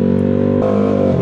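Yamaha Aerox version 2 scooter engine revving loudly through an aftermarket exhaust pipe, a steady close drone with a brief rise in pitch partway through, heard alone without speech.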